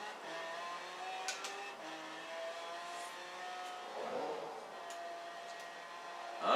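A car drifting through a drift zone in the racing game Forza Horizon 4, its engine droning and shifting pitch at moderate volume, with a brief tire squeal midway and no talking.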